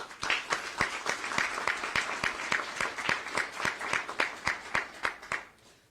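A crowd at Nevada Governor Steve Sisolak's High Speed NV launch claps in a steady, almost rhythmic beat of sharp, distinct hand claps for several seconds before fading out at the end.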